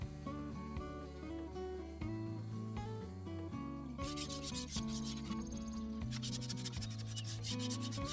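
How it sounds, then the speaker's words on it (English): Hand sanding on wood of an antique plant stand gives faint, scratchy rubbing strokes in short bursts, partly buried under steady background music. "I had to do a lot of hand sanding just to remove some of the stuff that was still left over"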